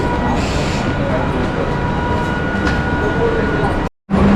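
Rumbling interior noise of a train pulling away from a platform, steady and loud throughout, with a faint steady tone, ending in a sudden brief cut to silence.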